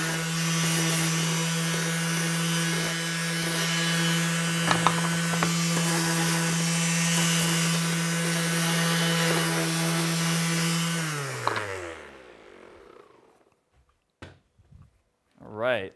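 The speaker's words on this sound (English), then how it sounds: "I'm going to use the bandsaw, seems easy." A bandsaw cuts through a ballast weight with a loud, steady motor hum and grinding blade rasp for about eleven seconds, then the motor spins down; a few faint knocks and handling noises follow.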